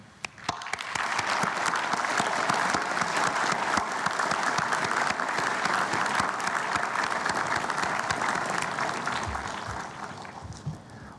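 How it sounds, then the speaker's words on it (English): Sustained applause from a large graduation convocation audience honoring parents, friends and faculty, a dense steady roar of clapping lasting the whole stretch before tapering slightly at the end. "may I invite everyone to give a round of applause to our parents, friends, and faculty members"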